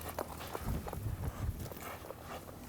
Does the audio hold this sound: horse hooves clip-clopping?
yes